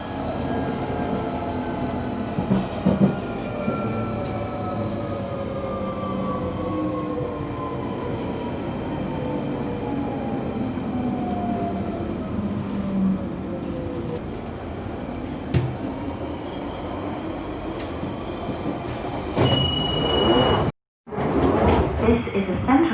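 A London Underground train at a station, a loud continuous rumble with rising and falling whine from the motors and wheels, then a brief cut and a door-like clatter near the end.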